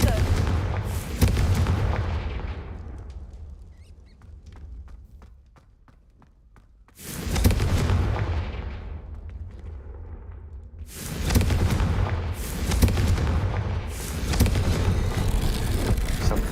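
Confringo blasting spell explosions in the game Hogwarts Legacy land as loud, deep booming bursts in three clusters, each fading into rumbling quieter stretches.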